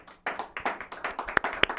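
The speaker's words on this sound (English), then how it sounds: "Could I have a round of applause" A small studio audience of about five people claps for a local pet talk show, giving sparse, uneven, close-up hand claps that swell into a ragged run, with one or two sharper standout claps.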